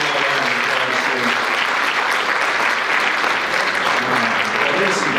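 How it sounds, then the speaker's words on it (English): A crowd at a spelling bee bursts into sustained applause for the winner, dense steady clapping filling the room from start to finish. "Let's bring all around the applause here."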